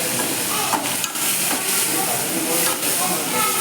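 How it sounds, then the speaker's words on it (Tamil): Onions and tomatoes sauté in a pan for a mustard-seed kuzhambu, giving a loud, steady, hissing sizzle that fills the whole moment without a break. "வெங்காயம் தக்காளி நல்லா வதங்கணும்."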